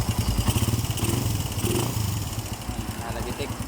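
A noisy motorcycle engine idles with a fast, rough ticking clatter from a worn timing chain and roller guide, close and steady throughout, with voices talking over it.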